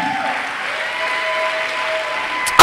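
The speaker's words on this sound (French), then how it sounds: "acclame pour Jésus" A church congregation applauds in a continuous, dense wash of clapping for nearly three seconds, with a louder burst right at the end.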